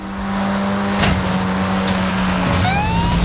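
A Porsche races in Forza Horizon 5 with a steady, loud engine drone, tires squealing and skidding sharply around the one- and two-and-a-half-second marks, and rising whines near the end.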